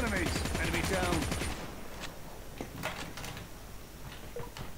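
Gunfire in the mobile game Call of Duty Mobile, a dense burst of rapid shots at first, then scattered single cracks and clicks over quieter game noise.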